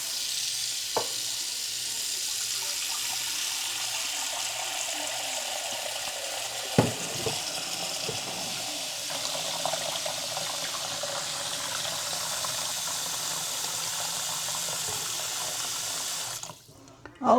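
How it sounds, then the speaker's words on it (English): Tap water runs steadily into a 3-quart pan in a home kitchen for about sixteen seconds, a constant close hiss with a few clunks of the pan, then cuts off. "Put me a little water in here."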